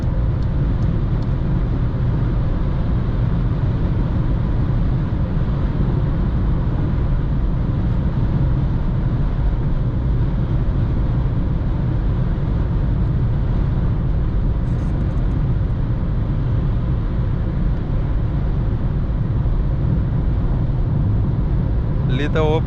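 A Skoda Fabia 3 1.0 MPI 60 HP cruises at full throttle in fifth gear on a highway, heard from inside the cabin as a steady, loud engine drone mixed with road and wind roar, with no change in pitch.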